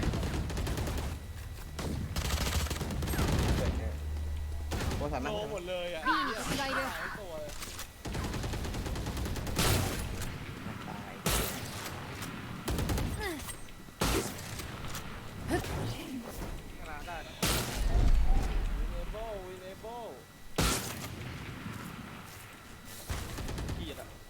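Gunfire in the tactical shooter Valorant: repeated rapid bursts and single shots crack out over a constant game backdrop, while players talk excitedly in between.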